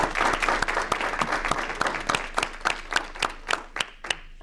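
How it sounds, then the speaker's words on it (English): Audience applause at a public school board meeting, dense clapping at first that thins into scattered individual claps, fairly close in the room. "Let's give them one more round of applause"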